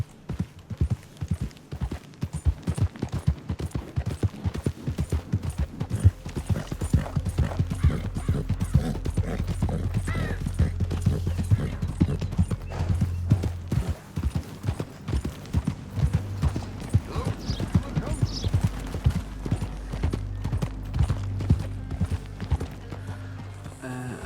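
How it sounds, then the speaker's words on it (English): Horse hooves clip-clopping in the Red Dead Redemption 2 video game, a steady close trot of repeated hoof hits over a low rumble, with occasional faint talk and a brief whinny. "Ahí está el caballo suyo."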